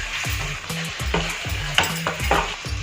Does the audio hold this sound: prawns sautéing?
yes